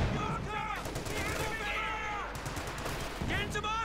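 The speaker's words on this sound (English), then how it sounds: "Heavy artillery fire." Heavy artillery fire in a strategy video game, with rapid blasts and gunfire crackling continuously under overlapping voices.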